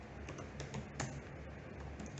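Someone types Python code on a computer keyboard, a quiet run of close key taps over a steady background hiss.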